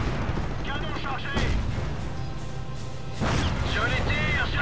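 Tank cannon blasts booming out in a Company of Heroes: Tales of Valor battle, several heavy reports spread across the moment amid continuous combat noise, with voices talking over them.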